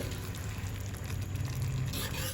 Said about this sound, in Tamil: நல்லா கொதிக்குது